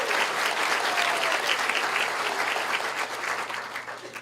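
Steady audience applause for donors at a high school senior scholarship and honor graduate recognition night, a continuous dense clatter of many hands that holds throughout and tapers slightly at the end, with no talking.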